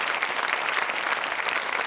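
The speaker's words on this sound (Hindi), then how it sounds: "जोरदार तालियां बजाइए उनके लिए" An audience at a university quiz show applauds the chief guest, a dense, steady burst of many hands clapping together for a couple of seconds.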